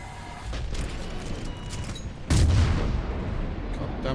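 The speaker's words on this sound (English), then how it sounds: "God damn explosions." A deep, heavy blast in modded Mass Effect 3 hits suddenly midway through, breaking into a rumbling roar over a background of distant booms and clatter.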